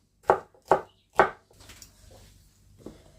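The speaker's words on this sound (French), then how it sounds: "Je coupe comme ça. J'en ai rajouté un quart, hein, du coup. Voilà. Et je fais hop, des petits carrés d'ananas." A knife chopping pineapple into small squares for an exotic rice salad, three sharp thuds on a board in quick succession followed by softer, quieter cuts and a final tap, close up, no speech.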